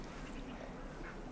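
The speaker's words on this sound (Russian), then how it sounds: "Смотрите, утки-то есть." Ducks quack faintly in the distance during an outdoor walk in early November, a few scattered calls over a steady background hiss.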